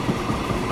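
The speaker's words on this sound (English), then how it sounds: "engine noise if that's a little bit loud if you're wearing headphones" Train engines rumble steadily in the Transport Fever 2 game, a continuous low drone with a dense mid-range hum, loud and unbroken with no talking.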